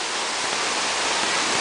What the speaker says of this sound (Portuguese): Uma cachoeira dessa.